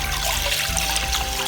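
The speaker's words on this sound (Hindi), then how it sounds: "1 लीटर पानी डालेंगे।" Water pours steadily into a kadhai (wok) at the start of a mixed vegetable soup, a continuous close trickling and splashing stream with no voices over it.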